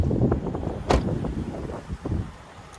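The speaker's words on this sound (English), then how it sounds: "this wind just came out of nowhere" Wind buffets the microphone in a low, uneven rumble with one sharper gust partway through, during a driving test of a 2011 Toyota Camry LE with about 105,000 miles.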